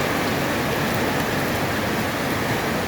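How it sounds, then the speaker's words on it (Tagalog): Heavy rain pours down in calm, windless weather, making a dense, steady, even hiss that stays constant from start to finish, with no voices. "Ulan lang talaga."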